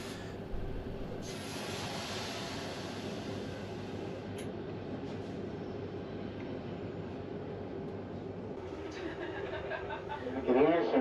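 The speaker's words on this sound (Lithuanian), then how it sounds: "Dar kartą pažvelgėm į išvažiuojantį traukinį, kuris važiuoja į Krokuvą" A departing train bound for Kraków rumbles steadily at a moderate distance, a long low continuous roll with occasional higher tones and a louder swell near the end, people talking faintly over it.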